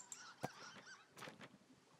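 A duck in the video game Firewatch gives a couple of quick, faint honking quacks, short and thin against quiet game ambience.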